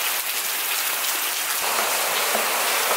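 Heavy rain pours down at Tikal in Guatemala, a loud unbroken hiss of drops drumming on the surfaces nearby, with no voices.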